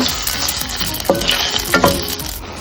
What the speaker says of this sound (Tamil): நல்லா ஃப்ரை பண்ணோன்னா நாம் அந்த சாப்பாடை கலந்து வச்ச பொங்கலை இதில் போட்டு நல்லா கொட்டி கிளறி எடுத்துக்கலாம்.